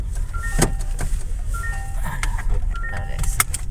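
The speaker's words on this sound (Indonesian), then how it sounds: "Sebentar guys, sabuk pengamannya bunyi guys." Repeated short electronic chimes of a Toyota Innova Zenix V gasoline seat belt warning sound inside the cabin, beeping over steady road and engine rumble while the car drives slowly through a housing estate.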